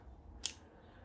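A single quick, crisp snip of scissors, close and fairly loud, standing out against a quiet room background while preparing plants for a plant swap.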